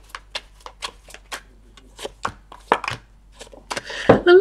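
Tarot cards being shuffled by hand, a series of crisp riffling and tapping bursts at an uneven pace, close and fairly loud in a quiet room, no talking.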